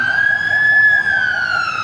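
A fire truck siren wails loud and close as firefighters arrive at a building fire in Santa Cruz, Manila, holding one steady piercing tone that dips slightly with street noise underneath.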